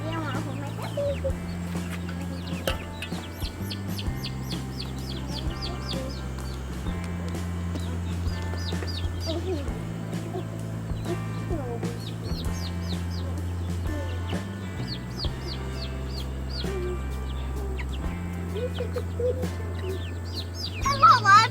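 Chickens cluck and chirp steadily in a busy yard, with people talking over a low droning hum throughout.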